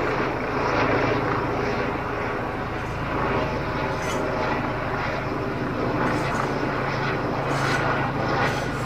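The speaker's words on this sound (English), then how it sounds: "this helicopter will also disappear." A helicopter flies over an outdoor fruit orchard, its steady broadband rotor and engine roar holding loud and continuous throughout, with no voices.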